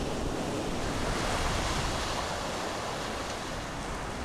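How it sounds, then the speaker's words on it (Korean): Strong wind and rough surf on the Bering Sea off Chukotka, a steady, loud broadband roar of crashing waves and gusting air with no break. "이 세상 어느 바다도 여기만큼 바람과 풍랑이 사납지는 않다."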